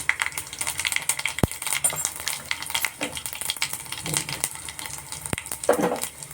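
Mustard seeds and cumin crackle and sizzle in hot oil in a home kitchen, a steady frying hiss with scattered pops and two sharp clinks of a utensil, close and fairly loud with no talk.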